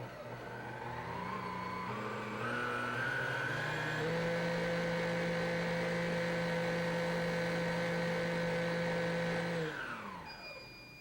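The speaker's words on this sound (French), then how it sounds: "nous allons fixer le fouet du chef et commencer à mélanger" A Cuisinart stand mixer runs at speed 9 with a chef's whisk, a steady close motor whine with harmonic tones that step up in pitch as it gets going, holds for several seconds, then winds down as it is switched off.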